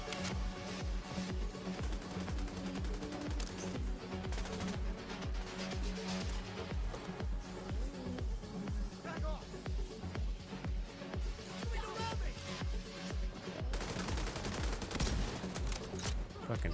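Dense rapid gunfire from The Division 2, sustained fusillade and machine-gun bursts filling the whole stretch, loud and continuous with a player voice occasionally over it.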